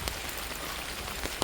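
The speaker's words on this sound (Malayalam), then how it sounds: "നല്ല മഴ പെയ്യുന്നുണ്ട്." Heavy rain falls steadily as a dense, even hiss, with a few slightly sharper drops now and then and no voices.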